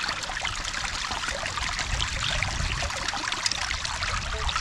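Water washing dirt through a sluice box, a steady rushing, trickling flow heard close and moderately loud, continuous with no voices.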